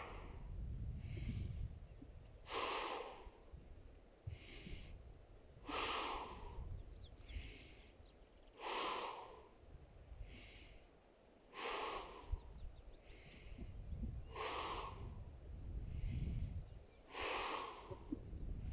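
Rhythmic in-and-out breaths during a mat-based pilates core exercise, repeated roughly every one to two seconds, close and fairly soft over a low background rumble.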